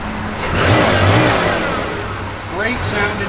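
A 1965 Mercury Comet Caliente convertible's 289 V8 rumbles nearby, swelling through a couple of short revs before settling back, with a voice speaking over it.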